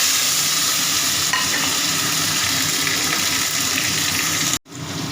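Tomato frying in hot oil with cumin seeds and whole garam masala in a wok, a loud steady sizzle with stirring scrapes that cuts off abruptly near the end.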